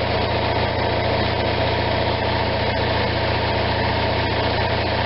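An Onan RV generator engine runs at a steady, loud, close idle with a constant low rumble and even mechanical vibration, slightly high as it has not settled, no voices.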